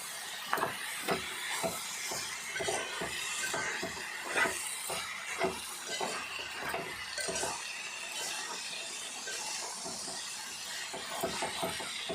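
A flat bean curry is stirred in a pan, with a steady run of rhythmic scraping strokes close by over a soft sizzling hiss and no voices.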